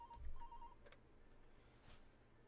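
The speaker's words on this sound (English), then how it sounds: "My phone rang." A phone rings in a video game, giving a short, electronic ringtone of repeated tonal beeps up close, which stops after about a second and leaves low background noise.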